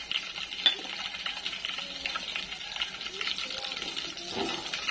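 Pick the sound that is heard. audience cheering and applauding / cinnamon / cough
cinnamon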